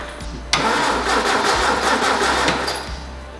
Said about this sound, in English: Yes, I will mount this pump. I'm just testing it right now